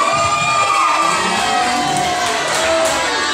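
A large live concert crowd cheers and shouts continuously, loud and dense, with scattered whoops rising above the roar.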